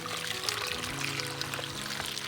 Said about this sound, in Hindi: पानी भी जा रहा है, मिट्टी भी जा रहा है पूरा अंदर